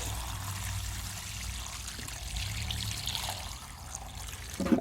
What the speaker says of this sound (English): Stick that on top and then just fill it up with water.